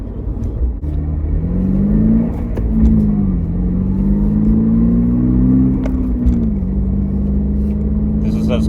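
A Toyota GR86 engine, heard from inside the car, climbs in pitch under hard acceleration, a loud droning rise that holds briefly, then drops as the revs fall and the car settles into cruising.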